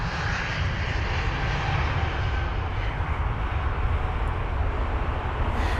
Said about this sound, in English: That Airbus A320 Neo with the Reg Golf Tango November Sierra.